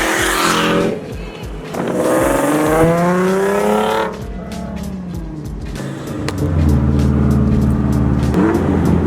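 A 2019 Subaru WRX STi with a straight-pipe single-exit exhaust revs loudly and close, engine pitch sweeping up and falling back in repeated bursts, with brief popping crackle between pulls.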